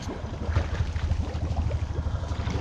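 A Honda boat engine idles with a low, steady rumble on a creek, a faint watery wash over it and no talking.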